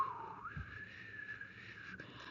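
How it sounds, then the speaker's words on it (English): A strange, eerie whistling tone rising then holding steady, a single sustained thin whistle heard alone in a quiet setting. "think of a time when you heard low murmurs, chirps, or whistling sounds that seemed strange to you"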